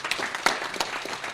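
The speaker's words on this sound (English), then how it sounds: "Once again, a round of applause." Applause at a groundbreaking ceremony in Eenhana, a short burst of fairly faint clapping from an outdoor crowd with a few sharper, louder claps standing out.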